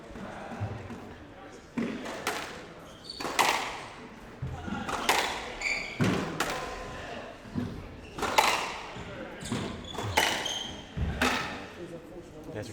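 Squash ball in a professional women's match, struck and rebounding off walls: a rapid series of sharp thuds and pings at an uneven rally pace, with commentators talking throughout.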